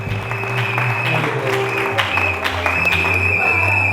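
A church congregation at a wedding applauds, a dense burst of clapping that fills the space and runs steadily throughout with some scattered voices mixed in.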